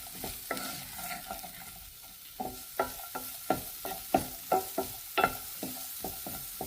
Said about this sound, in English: I'm going to saute my onion.